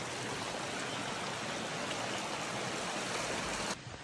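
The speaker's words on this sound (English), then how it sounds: "We got a creek meeting a creek and a nice little bridge." Two creeks meet beneath a small footbridge on a forest trail, their water rushing in a steady, broadband roar close by, unbroken for nearly four seconds before easing slightly at the end.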